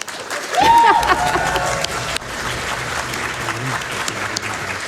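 A burst of audience applause and cheering starts abruptly at a Summer Games Done Quick 2024 speedrun event and continues steadily, dense clapping from a sizable crowd.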